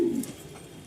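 A pigeon coos once, close and clear, at a pigeon market in Mirpur-1, Dhaka, the low throaty call fading quickly into market background noise.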